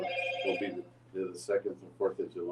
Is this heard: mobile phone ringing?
yes